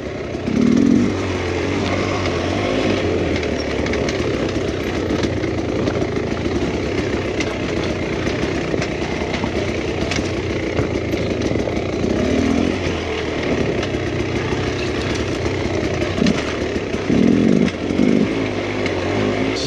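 A Beta enduro dirt bike engine running, a loud, raspy two-wheeler drone that holds steady close by for the whole stretch, with brief surges in revs.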